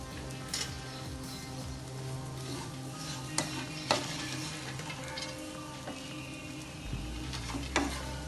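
Cashews fried and stirred in a pan while making sweet somas, a steady sizzle with scraping spoon strokes and a few sharper clinks against the pan, close and fairly quiet throughout.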